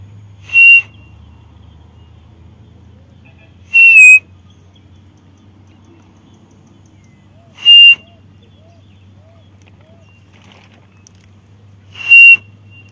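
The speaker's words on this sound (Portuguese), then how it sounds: "eu apito com o bico e consigo chamar a codorna do Nordeste bem pra pertinho de mim" A quail-call whistle for the Northeast Brazilian quail is blown four times in short, sharp bursts, spaced a few seconds apart over a faint low hum, loud and close, in the caatinga.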